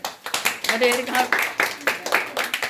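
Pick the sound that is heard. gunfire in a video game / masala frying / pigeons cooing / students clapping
students clapping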